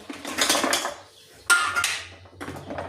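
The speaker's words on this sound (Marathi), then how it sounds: "आता बर्फ टाकलाय, आता हलवून घेतो, पटकन लोणी येतं" Ice tipped into a pot and stirred to churn butter, giving clattering metallic knocks and rattles in two bursts with a short pause between.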